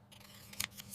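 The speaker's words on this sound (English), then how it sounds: "I cut the paper." Scissors cutting paper: two quick, crisp snips close by, the second at the very end, with no talking.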